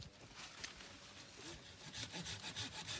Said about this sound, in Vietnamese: Cưa bỏ luôn.